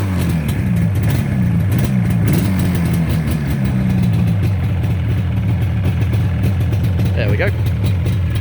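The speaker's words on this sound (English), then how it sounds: "I can guarantee that the camera microphone is picking up a rattly sounding engine, but it's not." A two-stroke Yamaha RD400 motorcycle engine, freshly overhauled, idles steadily and evenly up close with a slightly rattly mechanical chatter, while someone speaks briefly over it.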